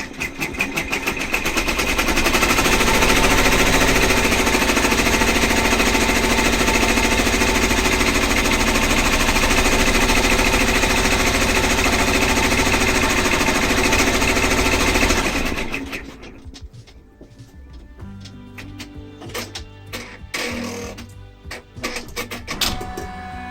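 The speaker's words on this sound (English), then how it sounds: "This is going to stitch the placement stitch." Embroidery machine sewing a placement stitch for the ears of an in-the-hoop faux stuffed toy: a loud, steady rapid mechanical stitching drone for about fifteen seconds, then it stops, leaving quieter clicks and scattered handling noises.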